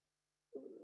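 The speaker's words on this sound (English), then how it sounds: "that was my cat Smokey here." A domestic cat lets out a single short meow, fairly close, after near silence, cutting in abruptly near the end.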